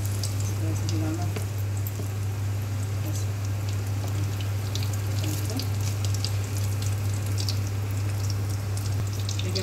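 Paneer and keema frying in hot oil on an induction cooktop, a steady close sizzle and crackle with a constant low hum underneath, while someone talks over it.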